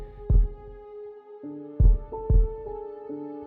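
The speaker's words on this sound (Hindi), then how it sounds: "बस दिल की धड़कन सुनाई दे रही थी" Heavy, thumping heartbeats pulse irregularly under a sustained eerie tonal drone, with low booming beats standing out.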